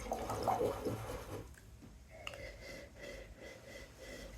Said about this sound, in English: let's sniff it.